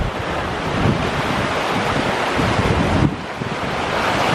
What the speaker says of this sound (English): You can hear the waves all night.